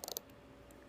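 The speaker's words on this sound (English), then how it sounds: "The 120 click bezel is really nice." A 120-click dive watch bezel on a Borealis Sea Dragon is turned, giving a quick run of four or five crisp, close ticks followed by quiet and one faint later click.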